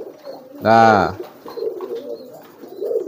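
A pigeon gives one loud, close, throaty coo, followed by quieter cooing and faint chirps in the background.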